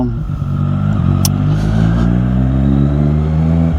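Triumph Street Triple 660S motorcycle riding through town, shifting gears with the clutch, a loud, close engine drone with revs dipping and rising between shifts and a brief clatter as a gear goes in.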